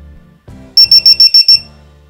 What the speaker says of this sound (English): They connect to the balance port of the battery and make a loud noise as soon as any of the cells is reaching its limit.